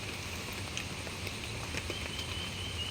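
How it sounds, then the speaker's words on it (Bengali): Steady rain from Cyclone Remal patters continuously at an even level, with occasional faint drops standing out against the constant hiss. "বৃষ্টি অনর্গল পড়েই যাচ্ছে"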